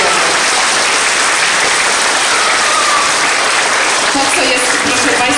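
An audience at a school event gives Mrs Basia a loud, sustained round of applause, thick and continuous for several seconds, with a voice faintly speaking under the clapping near the end.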